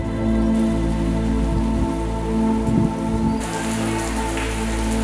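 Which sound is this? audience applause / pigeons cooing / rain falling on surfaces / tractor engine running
rain falling on surfaces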